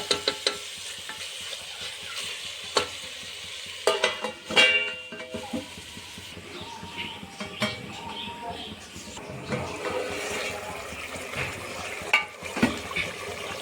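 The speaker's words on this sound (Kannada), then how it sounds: "ಇವಾಗ ನೋಡಿರಿ ನೀರು ಹ್ಯಾಂಗೆ ಬಿಡ್ತಿದೆ ಕುದೀತಾ ಇದೆ ಚೆನ್ನಾಗಿ" Chicken sukka cooking in a pan in its own released juices, bubbling and simmering with intermittent stirring and scraping clatter from a utensil, fairly close.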